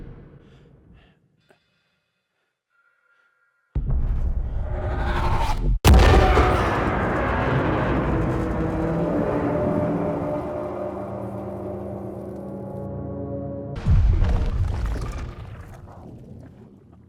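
An oil rig explodes in Still Wakes the Deep: after near silence a rumbling swell builds, then a sharp blast hits and a long roaring, crackling fire-and-debris tail follows, with a second surge near the end.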